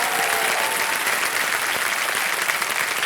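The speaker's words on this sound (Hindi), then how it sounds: "जोरदार तालियां बज जाए" Loud, steady studio audience applause on a game show set, dense clapping filling the whole stretch without a break and fading only slightly at the end.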